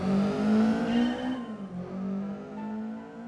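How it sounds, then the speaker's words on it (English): A performance-tuned 1991 Honda Beat in Gran Turismo 4 revs hard, its engine note climbing, then dropping briefly at a shift before rising again, loud and steady, with no voices. "Without even telling, the sound of the performance-tuned engine is already compelling."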